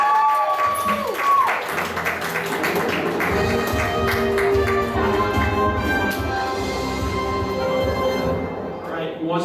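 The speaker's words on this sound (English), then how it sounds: "Give a round of applause." Audience applause at an anime convention game show after contestants win $32,000, a sustained stretch of clapping with music and background chatter layered underneath, fading toward the end.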